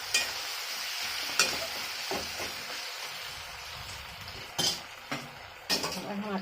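Vegetables for a hilsa fish head curry are stir-fried in a pan, a moderate steady sizzle under repeated spatula scrapes and clinks against the metal.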